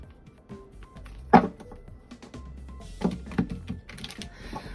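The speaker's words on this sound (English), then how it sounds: "So this is another way that you can shuffle your deck." A thick-cardstock tarot deck is shuffled by hand up close, giving soft, uneven card taps, slides and a few sharper riffling snaps at a quiet level, with no talking.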